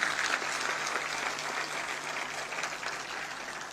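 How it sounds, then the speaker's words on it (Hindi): Audience applause at a state disaster management headquarters inauguration with the chief minister present, a dense steady clapping from a large crowd throughout, fairly loud and continuous with no talk. "जोरदार तालियां बजाएं।"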